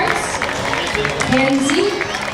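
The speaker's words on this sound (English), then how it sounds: "Give her a nice round of applause" Crowd applause at a July 4th small-town parade, scattered clapping and crowd noise under an announcer's voice, with a brief tonal sound in the middle.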